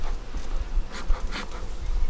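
Honeybees being smoked off the edges of hive frames give a continuous close buzz, with soft puffs and handling noises breaking through it.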